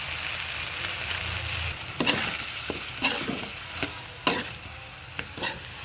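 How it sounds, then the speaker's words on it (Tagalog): Fish sauce sizzles in hot oil in a pan of native chicken sinampalukan with tomatoes. A steady frying hiss is broken by several scraping, clattering stirs of a utensil against the pan. "Na mantika na lang po yan, lalagay tayo ng patis."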